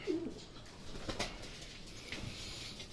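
Racing pigeons coo softly in a loft, a short low coo near the start followed by faint rustling and fluttering.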